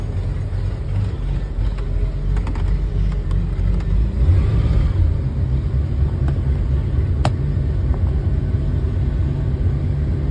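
An inboard/outboard boat engine idles while warming up before winterizing, a steady low rumbling drone that holds loud and even throughout, with a few faint clicks on top.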